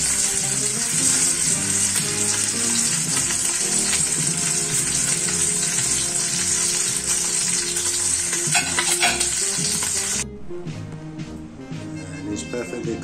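Dry-aged steak sizzles loudly and steadily in a frying pan just after being flipped, a dense crackling hiss that drops to a softer level near the end.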